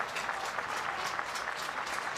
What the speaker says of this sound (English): Crowd getting into it here in the early going of this one.